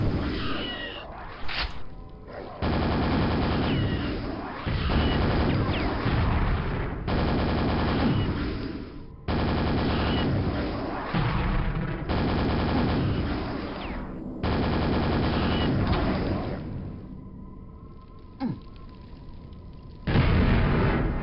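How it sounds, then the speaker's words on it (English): Dense gunfire and explosions fill the action game Pak Attack, loud rapid bursts and booms running in long stretches broken by brief pauses. "That was a lot of explosions."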